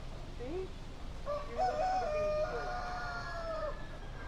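A rooster crows on a small farm, one long drawn-out crow after a few short clucks, heard at mid distance over faint background noise with no clear talk.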